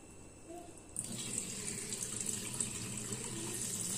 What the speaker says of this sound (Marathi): आता पाणी घालूया. छान बुडू द्यायचे साबुदाणा.